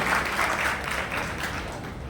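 An audience applauds the minister at a public meeting, a steady, diffuse wash of clapping from many hands, moderately distant and unbroken for the whole stretch.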